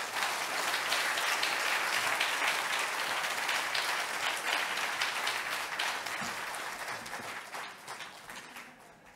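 A church congregation at an Atlanta Korean church's afternoon praise service applauds to welcome the pastor, a dense, sustained wash of many hands clapping that stays loud throughout and tapers slightly toward the end.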